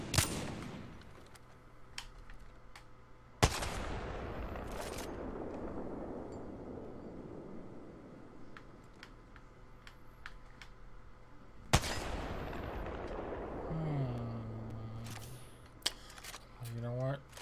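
Gunshots in a shooter video game ring out as a few sharp, loud cracks spread apart, each trailing off into a long echoing tail, with a faint steady hum and some quieter clicks in between.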